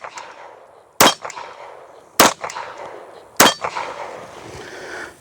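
Three sharp metallic clangs from CZ-52 pistol rounds striking steel targets outdoors, evenly spaced about a second apart, each ringing briefly with faint echoes and no talk.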